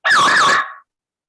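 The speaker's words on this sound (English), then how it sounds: "It's a fire alarm" A fire alarm goes off during an online council meeting, giving a single loud, warbling electronic tone. It lasts under a second and then cuts off to silence.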